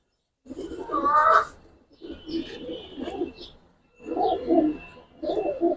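Giribaz coloring pigeons coo close by in a series of throaty, rolling bursts with short pauses between them.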